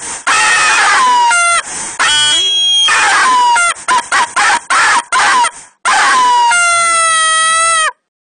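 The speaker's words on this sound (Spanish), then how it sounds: "¿Usted vio el grito que pegó ese mae?" A Costa Rican athlete screaming in celebration after winning a Pan American Games gold medal, a series of loud, shrill, sustained yells broken by short gaps, with a long final cry.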